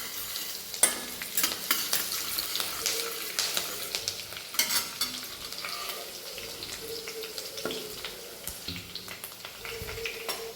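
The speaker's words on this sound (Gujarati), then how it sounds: "હવે આપણે નાખીશું કઢી પત્તા, પછી નાખીશું આપણે લીલા મરચાં. સરસ મજાના ફ્રાય કરવાના છે." Curry leaves and green chillies fry with crackled mustard seeds in hot oil, giving a busy sizzle with sharp spits and stirring scrapes throughout, close by and without talk.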